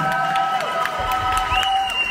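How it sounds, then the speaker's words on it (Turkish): Wedding guests applaud the groom at a Turkish henna night and wedding celebration, a brief crowd clap with some cheering layered under music. "Şöyle güzel bir alkış damat beye gelsin lütfen."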